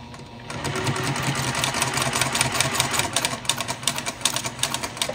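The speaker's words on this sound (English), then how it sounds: "now I'm just going to sew along that edge just like we have all the other pieces" A sewing machine stitches along the edge of pieced rail fence quilt block strips, a steady rapid mechanical whir with even needle clatter that runs close and continuous, with no talking.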